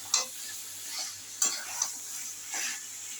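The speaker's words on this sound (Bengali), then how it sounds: "আর একটু কষিয়ে নেব।" Potatoes stirred and fried with masala in a pan for a Bengali fish and potato dish: a few sharp spatula scrapes at irregular intervals over a soft, steady sizzle and low hum, close and without talk.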